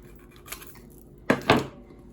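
A kitchen knife slices through a bell pepper in two quick, close crunching cuts, the second slightly longer, after a faint earlier scrape and otherwise quiet surroundings.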